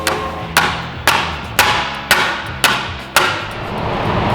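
Hammer blows straightening a 1978 Porsche 911 SC body panel, six evenly spaced sharp metallic strikes with ringing decay, close and loud in a workshop.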